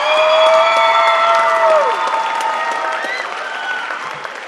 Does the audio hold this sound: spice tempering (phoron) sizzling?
no